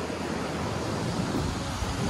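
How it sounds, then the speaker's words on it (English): Sea waves at Mattu Beach in Udupi, a steady, continuous wash of surf with wind rumble on the microphone, loud and unbroken with no distinct individual breakers. "You can see the waves, you can hear the sound."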